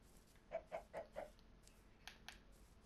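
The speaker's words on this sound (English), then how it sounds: "I found some chickens, some stuff like that." Chickens cluck in the video game Minecraft, four quick clucks in a row followed by a couple of fainter ones, moderately close with no talking over them.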